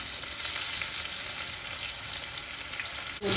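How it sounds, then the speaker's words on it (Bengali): Chopped onions frying in hot oil in a kadai, producing a loud, constant close-up sizzle with no voices, ending with a brief clatter. "তেলটা গরম হয়ে গেছে পেঁয়াজ কুচি দিলাম"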